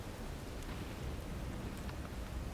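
Steady thunderstorm rain pours without pause, a dense hiss with a low rumbling undertone of distant thunder throughout.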